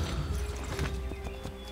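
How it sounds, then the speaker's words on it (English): Horse hooves clip-clop in Assassin's Creed 3, a quick run of even hoofbeats close up over a dense game soundscape of wind and background ambience. "I'm definitely taking a horse."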